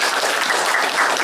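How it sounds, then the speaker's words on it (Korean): Brief burst of dense audience applause in a hall following a live music performance at a culture forum, loud and continuous clapping from many hands with no talk. "다시 한번 큰 박수 부탁드리겠습니다."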